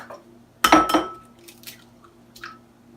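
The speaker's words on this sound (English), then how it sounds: "Go ahead and crack them, get them into the bowl here." Two eggs cracked and dropped into a bowl while breading chicken: a sharp crack with a wet splat, a second crack just after, then faint clinks and squishy drips in a quiet kitchen.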